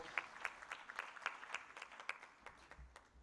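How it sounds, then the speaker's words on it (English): Faint applause rises at a tourism expo for a Secretary General, a thin scattering of distant hand claps at an uneven rhythm over a few seconds. "a round of applause"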